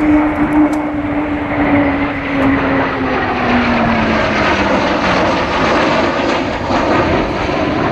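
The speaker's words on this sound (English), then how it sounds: "look out to your left now to see the magnificent sight of a PR-9 Canberra, a T-7 Hunter" Propeller and jet aircraft engine roar from a PR-9 Canberra and T-7 Hunter flying past at an RAF Cosford airshow, a loud continuous drone with a slowly falling pitch as they pass, no talk.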